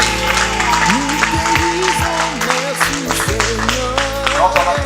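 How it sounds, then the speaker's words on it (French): A church congregation claps and cheers throughout, while a preacher's loud, chant-like voice carries over the crowd. "Ainsi, nous t'acclamons très fortement par Christ de roi."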